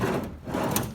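A drawer on a Matco toolbox slides out with a brief low rumbling glide, ending in a quick clack near the close.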